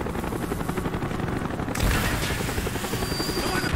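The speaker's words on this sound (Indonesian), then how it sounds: "Oh, ada helikopter." Helicopter in the video game Call of Duty: Black Ops: a steady rotor thrum and engine roar that swells loudly midway through, mixed with bursts of game gunfire and a brief low boom.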